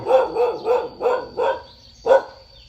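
A dog at a Buddhist temple barks six times in a steady rhythm, fairly close and loud, with the last bark set apart after a short pause.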